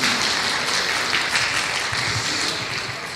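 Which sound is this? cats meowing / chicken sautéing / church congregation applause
church congregation applause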